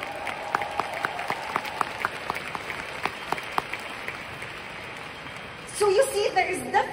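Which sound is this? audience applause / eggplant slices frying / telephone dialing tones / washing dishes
audience applause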